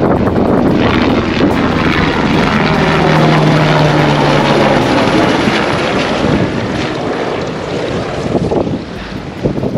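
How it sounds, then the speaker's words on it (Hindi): A helicopter flies near Everest Base Camp in Nepal's high, freezing mountains, its steady broad roar filling the whole clip at fairly close range with no voices. "और ये देखो हेलीकॉप्टर जा रहा है"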